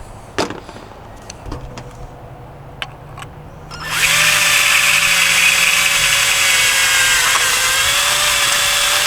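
A power drill bores a hole in an LS1 throttle body, quiet handling and a few light clicks first, then a sudden loud, steady close whine that holds to the end.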